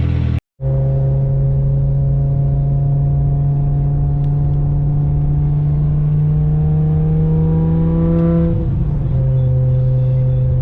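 A deep, steady BMW M5 E60 V10 engine drone with strong harmonic tones, rising slightly in pitch as the car drives on a country road, then briefly shifting before settling again.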